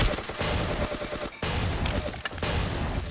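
Shotgun blasts and surrounding gunfire in the blocky shooter game Ace of Spades, a dense noisy stretch of rapid overlapping shots with a brief gap midway, moderately loud and unbroken by talk.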